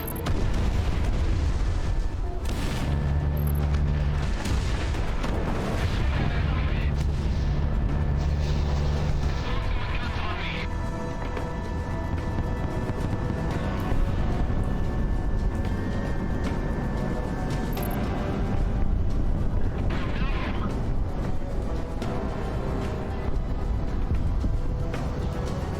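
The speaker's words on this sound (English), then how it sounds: "Missile shot off." A missile fires in the jet combat game Project Wingman, a heavy booming launch over constant loud engine and cockpit rumble, with a voice talking briefly at times.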